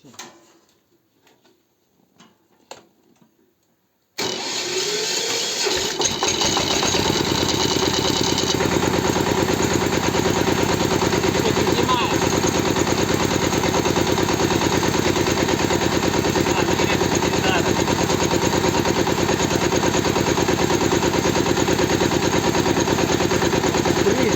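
A small walk-behind tractor engine, a Kentavr 160V Lux, sputters for a few seconds, then catches and runs loudly and steadily in a rapid, rattling chug.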